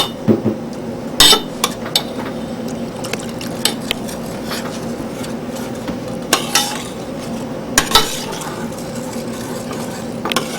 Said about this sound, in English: Spooned it to see how much it ran off the spoon and then added more.